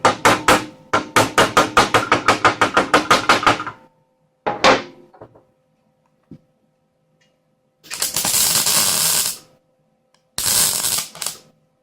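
A hammer whacks a motorcycle exhaust pipe in a rapid run of about a dozen sharp metallic blows, then a few isolated knocks, followed by two longer bursts of rushing air, with no talking.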